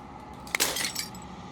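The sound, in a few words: glass shattering in video game Slay The Princess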